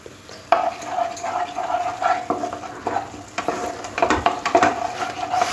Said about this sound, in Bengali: আর জল দিয়ে মশলাটাকে খুব ভালো করে কষে নেব।